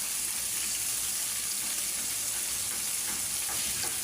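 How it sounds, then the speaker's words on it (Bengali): Roughly cut onions are dropped into a pan of frying fish and crackle in an even, continuous sizzle, close and fairly quiet, with no voices. "এখন আমি কিছু পেঁয়াজ দিয়ে দিব।"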